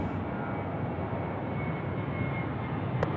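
An airliner passes at night at Sydney Airport, a continuous, fairly faint engine roar and rumble held steady throughout, with no talking.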